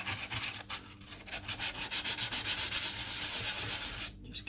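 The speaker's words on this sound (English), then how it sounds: "rubbing down paper with a block." A circuit board is rubbed down with 800 grit paper on a block, giving repeated close scratchy strokes in a steady back-and-forth rhythm.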